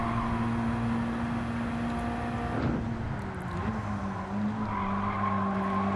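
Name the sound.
car braking and tires skidding in video game Gran Turismo 7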